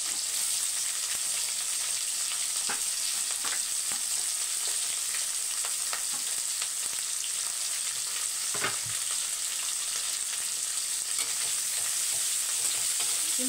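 Pieces of moringa drumstick sauté in a hot pan with a steady, loud sizzle that runs the whole time. A few sharp stirring scrapes and clicks break through now and then, and no one speaks.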